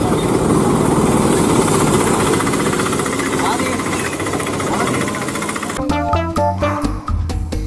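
A toy motorized pedicab (bentor) gives off a loud, steady buzzing engine drone with a rattling texture, which cuts off near the end and gives way to short electronic tones.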